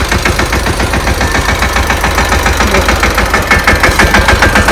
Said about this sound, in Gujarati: જો અત્યારે ટ્રેક્ટર હાલે છે